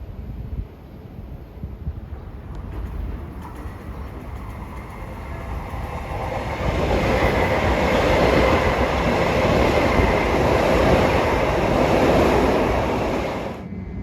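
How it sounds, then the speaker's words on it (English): An LIRR train approaching westbound at Woodside station in Queens during the evening rush, a steady rumble building from a distance and swelling louder and broader as it nears, with no voices. "approaching westbound at 5:27 is train 2763 Far Rockaway to Penn Station"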